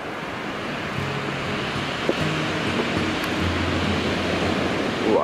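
Ocean surf breaks in a continuous broadband wash, with steady roaring hiss and a low undertone, heard close and loud without any talking.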